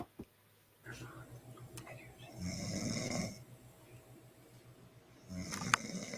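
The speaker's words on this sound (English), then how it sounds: "It's snoring and it's funny." A woman snores in repeated rasping breaths, with several loud inhale-and-exhale cycles that rise and fall close to the recorder. Brief clicks and rustles come before the first snore.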